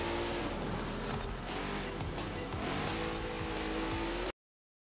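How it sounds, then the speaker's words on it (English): A Hemi-engined car driving hard in a racing game, its engine droning steadily with shifting pitch and bursts of tire squeal, loud and continuous before cutting off abruptly. "Guy's driving a Hemi."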